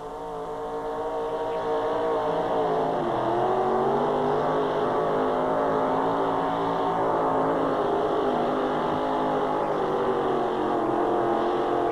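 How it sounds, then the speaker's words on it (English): A 492 cubic inch, 800 horsepower Ford pickup engine roars at a tractor pull, building from idle into a long, loud, sustained drone whose pitch climbs and wavers steadily as it strains under load. "really check the power of that engine. 492 cubic inch, 800 horsepower Ford pickup"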